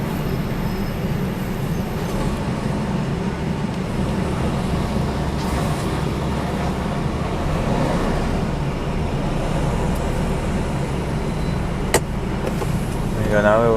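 A bus approaches on a main road while a delivery van drives on the Minehead run, a steady engine and road rumble close under the cab, with a voice talking over it.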